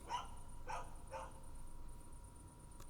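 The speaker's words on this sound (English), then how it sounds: "Shut up, dog." Three sharp barks from a dog in a video game, evenly spaced in the first second and a half, fairly faint and then fading into quiet background ambience.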